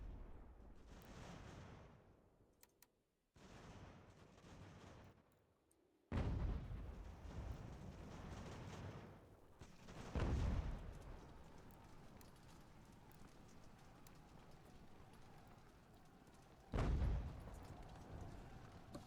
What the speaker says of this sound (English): Cannons are shooting me in the back